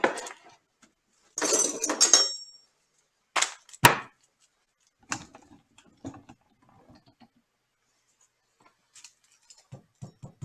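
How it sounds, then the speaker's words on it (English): A knife cuts an onion in half on a board: a few scattered knocks and rustles, one sharp clean chop, then lighter taps, close and otherwise quiet. "I'm going to take a half of this onion and I'm going to cut it in half, the onion."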